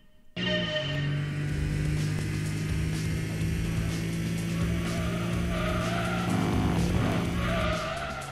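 Race car in Gran Turismo 2 losing grip and sliding sideways, tires squealing loudly over a steady engine drone for several seconds, with a sharper screech near the end before it eases.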